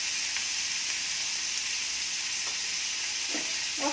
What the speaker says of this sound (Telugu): తర్వాత బీన్స్ ముక్కలు, క్యారెట్ ముక్కలు, బీన్స్ ముక్కలు అన్నీ వేసి